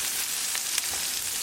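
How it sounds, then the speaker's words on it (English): Chopped onion sizzles in a hot pan while sautéing, a dense, even hiss with one small pop near the end, no voices. "we're going to saute our onion until they get translucent"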